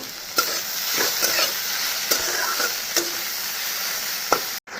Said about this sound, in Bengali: উচ্ছে ভাজা বানিয়ে নিচ্ছি একটু